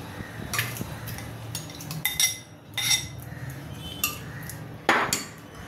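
Mutton pieces are dropped into a metal pressure cooker in a home kitchen, giving scattered clinks, clatters and scrapes of metal utensils at close range with quiet gaps between.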